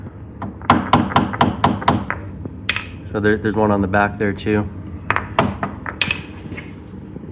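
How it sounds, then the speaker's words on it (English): Several sharp, quick hammer taps drive wooden shims under a workbench's legs, close by, followed by someone talking, then a few more taps between his words. "you just go ahead and tap them in with a hammer"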